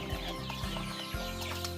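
Italian White Leghorn chicks cluck and peep softly, a few short repeated calls over a low steady background hum, fairly faint and close.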